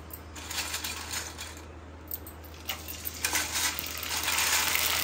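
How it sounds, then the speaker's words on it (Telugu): Sun-dried vadiyalu frying in hot oil, with steady crackling sizzle and scattered sharp pops that build louder toward the end, alone without talk. "అప్పుడు వేగించి చూపిస్తాను"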